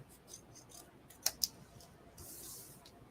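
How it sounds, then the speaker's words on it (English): Scissors cut paper for a handmade card, giving two sharp, close snips in quick succession over a quiet room, with faint rustling of paper around them. "We need to cut this piece in half so we can put it on either side of our Z fold."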